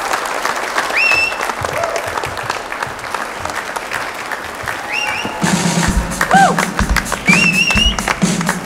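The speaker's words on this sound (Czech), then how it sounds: "Tleskej." An audience applauds to welcome a band onto a stage, a loud, sustained wash of clapping that thickens and grows denser partway through, with no talk over it.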